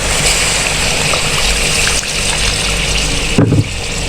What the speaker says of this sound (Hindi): इसमें पानी शामिल कर देंगे